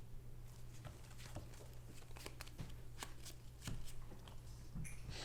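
Flesh and Blood trading cards are drawn and discarded during a tabletop game: soft, scattered card slides and flicks, fairly close, over a steady low room hum, with no talk.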